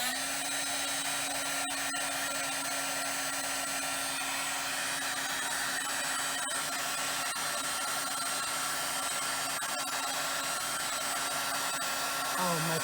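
Heat tool blowing hot air to melt embossing powder in a card-making craft, a loud, close, steady whooshing drone that holds unbroken throughout.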